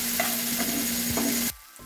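Spices and ingredients for a sour carplet fish curry fry with sugar and salt in a pan. There is a loud close sizzle with a few stirring scrapes, and it cuts off abruptly near the end.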